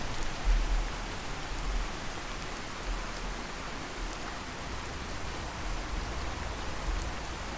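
Steady rain falls in the video game Fallout 4 at a settlement, a constant hiss of drops with occasional low rumbles, continuous and fairly loud, with no talk.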